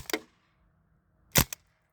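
Sharp cracks from a CO2 air pistol fired semi-automatically, two quick shot groups about a second apart, each a loud snap with a short ringing tail, in an otherwise quiet space.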